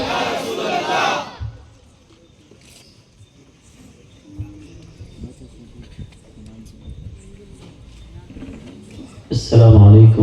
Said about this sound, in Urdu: آخری والے بھی نعرہ لگائیں. نعرے تکبیر.